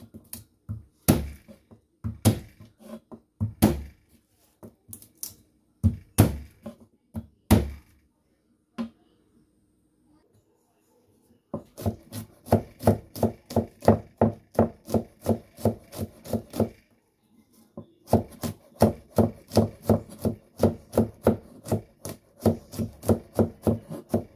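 A knife chopping garlic on a cutting board, sharp rhythmic knocks close by in quick bursts, then a pause, then long steady runs of fast even chops.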